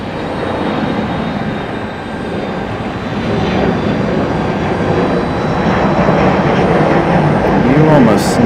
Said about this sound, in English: catch the Republic Airways departure